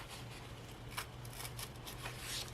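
Paper being torn by hand from one corner toward the opposite corner during planner crafting, a soft, faint, scratchy rip that comes in a few short bursts.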